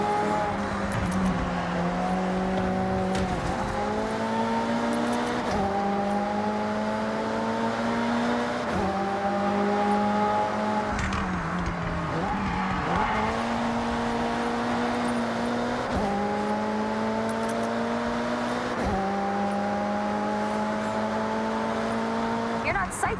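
Cars race in Forza Horizon 6, a loud engine revving up through repeated gear shifts with rising pitch, each climb cut by a shift, steady and close throughout.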